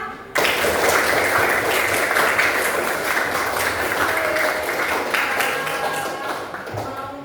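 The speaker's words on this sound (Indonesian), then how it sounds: "Tepuk tangan semuanya untuk kita semua." A classroom of grade 10 students applauds in sustained, dense clapping that fills the whole stretch, loud and close, with crowd noise mixed in.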